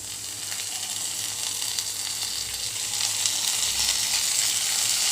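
Vegetables stir-frying in a hot pan for street-style hakka noodles, a continuous close sizzle with stirring that grows slightly louder toward the end.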